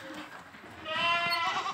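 A Boer crossbreed goat bleats once, a moderately close, wavering nasal call rising out of quiet farm background and holding for nearly a second.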